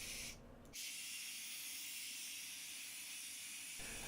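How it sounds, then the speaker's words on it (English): Spray paint hisses steadily onto a soft plastic gizzard shad swimbait, a close, continuous bursting hiss broken by a brief pause near the start. "After silver I'm going to spray some white on the belly."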